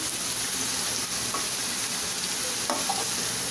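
Carrots and beans sautéing in a pan for vegetable fried rice give a steady, dense sizzle with faint stirring, close and continuous throughout.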